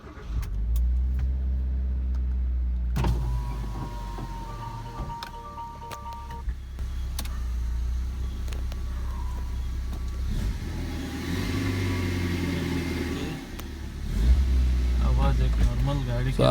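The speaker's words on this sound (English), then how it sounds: "Now I will try to start the car and I will check what type sound is coming now." A car engine starts and settles into a steady idle after an exhaust silencer repair, running continuously with a low rumble and occasional light revs, plus a few small clicks and knocks close by.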